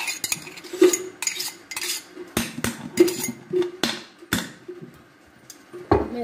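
Garlic and green chilies stirred in a pan with a metal spoon, sharp repeated clanks and scrapes against the pan in an uneven rhythm, loud and close, with brief quiet gaps.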